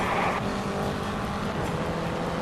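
Race car engines roar in the Indianapolis 500 Evolution video game on the Milwaukee track in 1961, a steady loud buzzing drone with a brief louder surge at the start, no voices.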